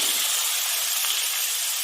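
Vegetables sizzle in hot oil in a wok (kadai) tempered with five-spice seeds, a steady close hiss with a faint sputter partway through and no talking.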